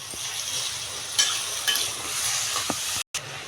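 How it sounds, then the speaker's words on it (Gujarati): Sabudana khichdi with potatoes and salt stirred in an oily pan, a soft continuous sizzle with a few light spoon scrapes, close but fairly quiet, ending in a brief cut to silence. "હવે એને આપણે હલાવી નાખીએ"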